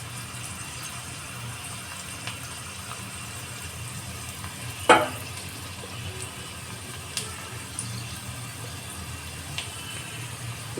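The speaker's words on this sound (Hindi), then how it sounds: "इसे हिला हिला के तड़का को फ्राई कर लेते हैं।" Garlic tadka sizzling in hot oil while being stirred in a pan, a soft continuous frying hiss with an occasional scrape or clink of the spoon, close and fairly quiet.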